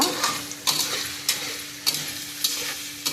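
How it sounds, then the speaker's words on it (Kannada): Paneer frying with turmeric in a pan, a continuous close sizzle broken by regular clicks and scrapes of a spoon stirring against the pan. "ಪನ್ನೀರಿಟ್ಟು ಫ್ರೈ ಮಾಡಿದರೆ ತುಂಬ ಚೆನ್ನಾಗಿ ಇರುತ್ತೆ ಪನ್ನೀರ್ ಫ್ರೈ ಮಾಡುವ"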